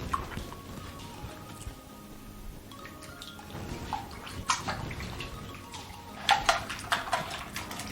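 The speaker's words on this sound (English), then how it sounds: "We're gonna go ahead and whisk this away." Egg mixture for French toast is whisked in a bowl, giving faint wet clinking and sloshing taps that grow quicker and louder toward the end, close by with no talk.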